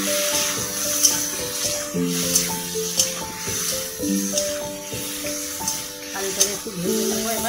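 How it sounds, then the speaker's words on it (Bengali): Potato pieces sizzle in hot oil with onion and a pinch of salt while a fish roe curry is cooked, a steady crackling hiss beneath a tonal background and some speech. "আলুটা একটু ভেজে নিয়েছি"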